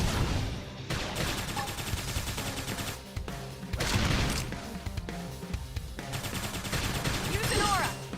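Rapid bursts of gunfire fill a Xenoblade Chronicles X battle, loud and continuous over dense game music and effects, with battle voices calling out across the fight.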